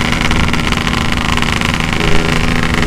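A Yamaha RX-King two-stroke motorcycle fitted with an aftermarket exhaust idles up close, a loud, dense, steady engine drone with a rapid rattling pulse and no voices.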